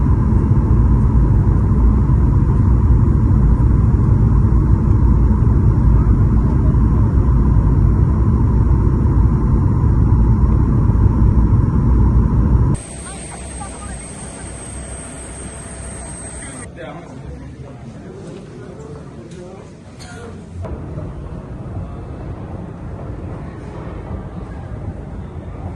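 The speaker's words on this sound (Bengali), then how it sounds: "আলহামদুলিল্লাহ, আমরা কাঠমান্ডুতে সেফলি ল্যান্ড করেছি" Biman Bangladesh Airlines passenger plane landing at Kathmandu airport: loud, steady cabin roar of engine and airflow through touchdown, dropping abruptly midway to a quieter rumble with a brief high whine as the aircraft slows.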